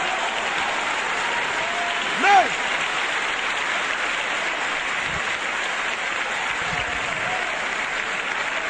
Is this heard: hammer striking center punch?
no